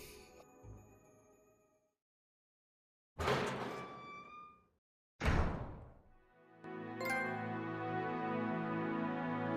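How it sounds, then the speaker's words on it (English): A door unlocks in Resident Evil HD Remaster: after a fading tone, a heavy mechanical clunk and grinding slide ring out, followed by another thudding impact and a sustained resonant musical swell. "Nice, we've unlocked the door now for Chris."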